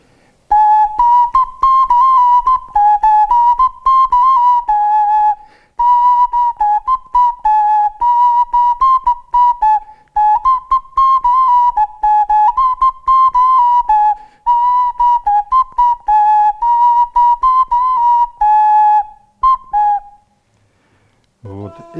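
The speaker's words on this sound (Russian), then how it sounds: "Вот эти шуланы в виде уточки." Udmurt duck-shaped shulan clay whistles play a bright, steady melody, loud and close, with short pauses between phrases and no talk.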